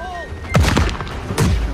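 Ship cannons fire aboard a sailing vessel in the naval game Blackwake, two loud close booms less than a second apart, each with a heavy low thump.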